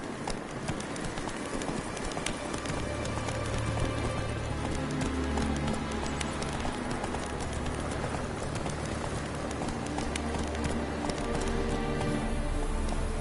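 Hooves of the horse Roach clip-clop steadily in a galloping rhythm through The Witcher 3 game world, a continuous close drumming over ambient outdoor game sound with faint birds.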